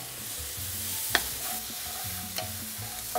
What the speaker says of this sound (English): I'm gonna move this around so that the garlic can release its flavor in here